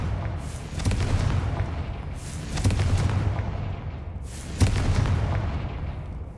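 Confringo fire spells go off in Hogwarts Legacy, three deep booming explosions spaced about two seconds apart, each a heavy low thud with a crackling burst and fading rumble.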